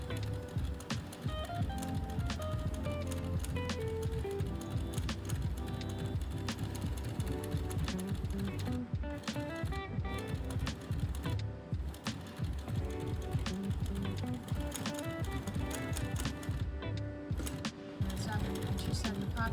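Sewing machine stitching shoe uppers in a continuous mechanical run, a dense rapid rattling chatter that stays loud throughout, with a voice heard over it.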